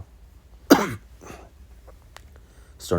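A single sharp cough near the microphone, followed by a few quieter throaty sounds and another short burst at the end, in a quiet room.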